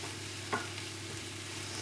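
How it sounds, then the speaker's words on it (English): Onion and cauliflower sautéing in a pan with a continuous sizzle and one brief stirring scrape, close and steady, with no talk. "we're going to wait until our onion has sauteed down and is softened"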